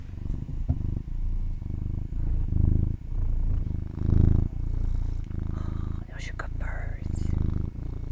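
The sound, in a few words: cat purring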